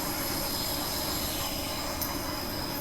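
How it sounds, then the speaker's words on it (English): A two-car passenger train rolls along with a constant high metallic wheel squeal over a steady rumble of rail noise, heard close and continuous with no speech. "This is the 2-car train on set 13 here."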